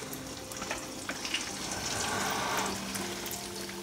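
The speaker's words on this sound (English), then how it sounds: "And gently drop it into the pan with the oil." Zeppole dough, shaped like a small donut, fries in a pan of hot oil, giving a steady close crackling sizzle with scattered pops and a faint low hum beneath, no voices.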